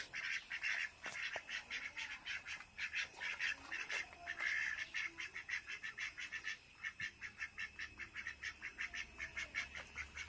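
A flock of domestic ducks quacks steadily and loudly at close range, the calls overlapping in a busy, continuous chorus, with a constant high-pitched whine running underneath.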